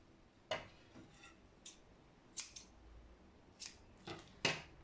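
Scissors snip macramé cords, about eight sharp, close cuts landing at irregular intervals, each a short crisp metallic click with no talking over them.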